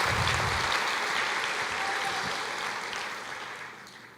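A church congregation claps together in a broad, sustained wash of applause that gradually tapers off toward the end, heard from within the room without speech over it.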